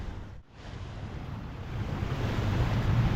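Ferry wake waves wash against the Mississippi River shore on a windy evening, a close, rough surge of surf and gusty wind noise that swells louder toward the end, with no talk.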